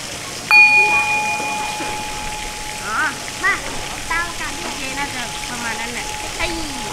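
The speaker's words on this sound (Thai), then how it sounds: "เดี๋ยวผมจะพาทุกท่านฟังเสียงระฆังกันอีกสักครั้ง" A clear bell strikes once and its pure tone rings on, slowly fading over several seconds while faint rain-like patter and soft bird calls sound in the background, at Pha Taem National Park, Ubon Ratchathani, Thailand.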